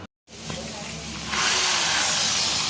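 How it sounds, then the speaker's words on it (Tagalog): A power drill whirs close by after a brief silent gap, its steady motor whine joined by a louder, hissing rise partway through, with a voice speaking over it. "So, barina lang gamit namin ganito."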